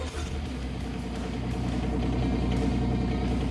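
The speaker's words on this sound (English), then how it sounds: "Go ahead and fire up the machine." Kubota compact machine engine running after start-up, a steady close diesel rumble that grows slightly louder as it settles into idle, with no talking.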